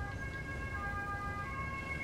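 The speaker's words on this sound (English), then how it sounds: "In case you hear a ambulance, police, whatever the hell it is, come by." An ambulance or police siren passing by outside, a steady faint wail with sustained tones held under low background rumble.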